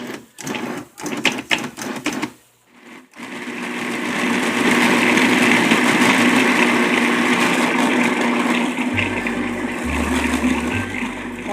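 A kitchen stand mixer beating rhubarb cherry bar batter gives off a steady whirring motor drone that runs on from about four seconds onward, after a few brief knocks at the start.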